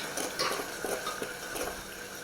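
Spices and chopped coriander being stirred in hot oil for pav bhaji, a spoon scraping and clinking against the pan in short irregular strokes over a faint sizzle, close and fairly quiet with no talking.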